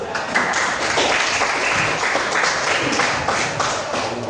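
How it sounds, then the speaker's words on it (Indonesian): Students in an Indonesian informatics classroom give a short burst of applause, a close, lively patter of many hands clapping together that fills the room for a few seconds. "Tepuk tangan dulu."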